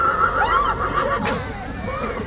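A horse neighs at Horse Guards, a high, wavering whinny heard close over a steady crowd babble of nearby voices and street noise. The call rises and falls through most of the clip.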